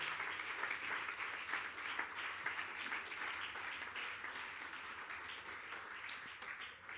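A church congregation applauds steadily for several seconds, a dense wash of many hands clapping at a fairly low, distant level.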